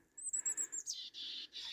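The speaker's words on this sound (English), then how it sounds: "Hello, little bird." A small bird chirps on a mountain trail at Burstall Pass, with a run of quick, high, bright notes followed by several longer, buzzy trilled calls, fairly close and clear in otherwise quiet surroundings.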